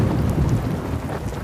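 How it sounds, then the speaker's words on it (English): A thunderstorm in a cartoon, with steady heavy rain and a low rumble of thunder rolling continuously underneath, loud and close with no voices. "Oh no! It's a thunderstorm!"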